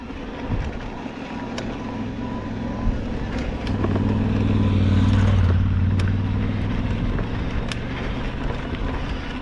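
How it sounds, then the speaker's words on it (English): On a woodland trail, a trail bike's engine drones in and grows louder as it approaches and then passes, beneath constant wind rumble and rustling. "There's a trail bike coming up here."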